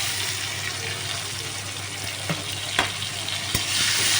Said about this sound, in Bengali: আলুটা কিছুটা ভাজা ভাজা হয়ে গেলে আমি টমেটোটা দিয়ে দিলাম।